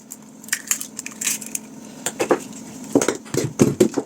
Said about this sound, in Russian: 2 яйца разбиваем в мисочку удобную.